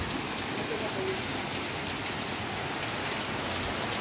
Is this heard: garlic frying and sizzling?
no